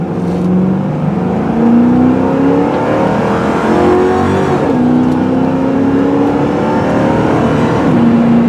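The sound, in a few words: 2009 Crown Victoria P71 car driving, engine revving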